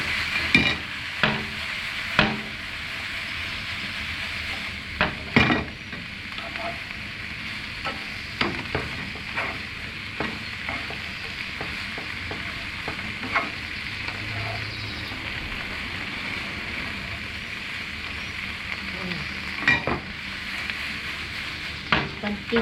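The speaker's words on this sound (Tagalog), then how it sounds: "Stir na natin." Food stirred in a pan after black pepper is added, a steady low sizzle with scattered scraping knocks from the utensil, faint and continuous without talk.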